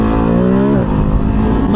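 A Ducati Hypermotard V2 accelerates hard with a loud, close engine note that climbs in pitch, drops briefly at a gear change and then pulls on through a rough, wind-buffeted roar.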